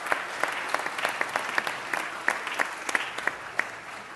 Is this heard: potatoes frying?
no